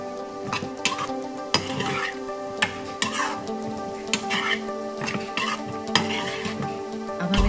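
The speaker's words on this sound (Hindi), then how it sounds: "अब हम इसे अच्छे से मिला लेंगे ताकि ये मसाले चाप में भी अच्छे से मिल जाए" Soya chaap is stirred with spices in a sizzling pan, with repeated spoon scrapes and clinks against the metal over a steady frying hiss.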